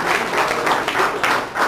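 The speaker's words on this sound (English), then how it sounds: "let's just give a round of applause, please, for Manny and Michelle" Wedding guests applaud for Manny and Michelle at their Las Vegas destination wedding, a steady, close burst of many hands clapping together for under two seconds.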